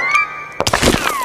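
A stone statue is struck with a chisel and a piece breaks off: one sharp crack followed by a brief cluster of knocking and crumbling impacts, loud and close, after a quiet tonal moment.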